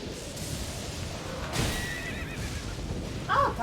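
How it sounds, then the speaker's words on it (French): A horse whinnies in the video game Elden Ring, a short bright neigh near the end over a steady rumble of in-game ambience and hoof clatter. "Ah, t'as un cheval!"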